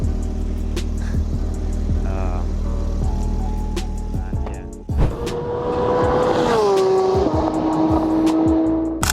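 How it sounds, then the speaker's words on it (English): Cars at a Snetterton track day rev and pass with engine drone and tire squeal, loud and continuous, while people talk over the noise. "I think this is probably the best track car for everyone here."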